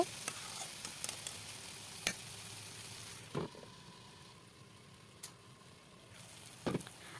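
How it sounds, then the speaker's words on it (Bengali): Vegetables tossed with salt and turmeric in a frying pan, giving a soft continuous sizzle with sporadic sharp clacks of a spoon against the pan. "খুব ভালো করে নেড়ে চেড়ে যাতে লবণ হলুদটা ভাজিতে ভালোভাবে লেগে যায় এভাবে আমি মিশিয়ে নিব"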